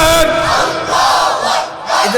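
A large crowd at a sermon roars the takbir chant, Allahu Akbar, in loud, surging waves of massed voices that swell and fade in quick succession.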